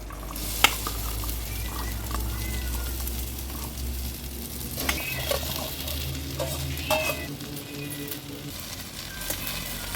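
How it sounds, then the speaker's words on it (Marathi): Chopped okra sizzles and is stirred in a lightly oiled kadhai over a medium-high flame, a steady close frying hiss with occasional scrapes and clinks of the spatula against the pan. "मीडियम टू हाय फ्लेमवर ही भेंडी ना अशी आपल्याला परतून घ्यायची आहे"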